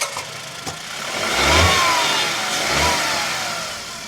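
A Tata Punch CNG's 1.2-litre three-cylinder engine runs with a steady, close mechanical hum that swells gently as it revs slightly twice.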